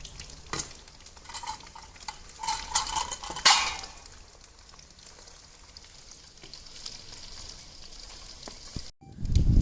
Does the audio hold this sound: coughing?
no